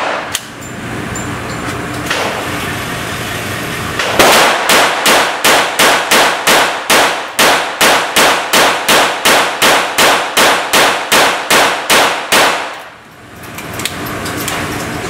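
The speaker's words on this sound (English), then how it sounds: "What we're going to do is do a rapid fire test." A GSG5 .22 rifle fires a rapid string of about two dozen sharp, evenly spaced shots at an outdoor range, loud and close, after a few seconds of quiet and followed by a brief lull.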